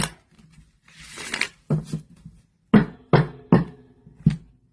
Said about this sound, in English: I'm just going to shuffle it one more time so that you all can see that it is being shuffled.